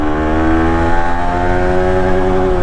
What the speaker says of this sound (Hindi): ये डाला मैंने पहला गियर, ये खींचा मारा, मतलब पूरा कान मार दिया।